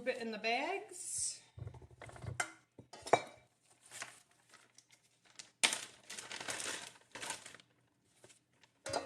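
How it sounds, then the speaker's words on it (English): Crock pot meal being scooped into plastic freezer bags, with crinkling plastic, clinks of a spoon against the pot and bursts of scraping, irregular and close, alternating with a person talking. "we're just going to scoop it in the bags."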